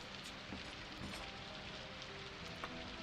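Steady in-game rainfall in Daggerfall Unity, a soft continuous hiss of drops on surfaces with faint scattered patters, fairly quiet and without voices.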